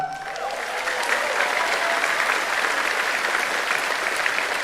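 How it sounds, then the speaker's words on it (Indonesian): A large audience at a party event claps loudly and steadily for two party chairs, a dense, sustained wash of applause with no clear speech over it. "saya pengen minta tepuk tangan yang paling meriah kepada dua ketua umum kita"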